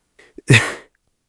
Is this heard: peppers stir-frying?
no